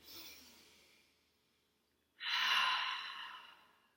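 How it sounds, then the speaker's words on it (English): Deep breath during a breathing exercise: a soft inhale fades into quiet, then a long, loud exhale rushes out close to the microphone and slowly tapers off, with no talk over it. "Big breath in and out."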